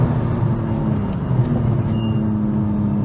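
A Nissan Skyline GT-R R34 slows hard under braking on a closed road, heard from inside as a loud, steady low engine and road rumble with a faint whine over about three seconds.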